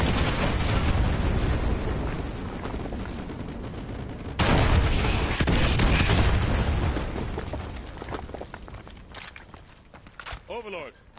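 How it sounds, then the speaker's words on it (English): Artillery strike explosions in Call of Duty Modern Warfare 2, a heavy sustained rumble of blasts that surges loudly partway through and then fades into scattered cracks and debris. "Fire mission received. Artillery inbound."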